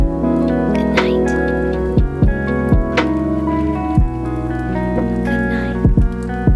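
Rain patters steadily on the roof of a camper van, a dense close drumming with occasional heavier drips and knocks, no voices.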